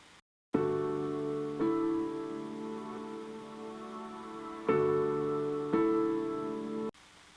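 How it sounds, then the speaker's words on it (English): Sustained piano chords ring out one after another, each struck cleanly and left to decay, with no voices. "First one we'll go for is the piano"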